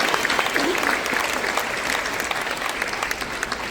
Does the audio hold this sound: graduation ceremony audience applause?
yes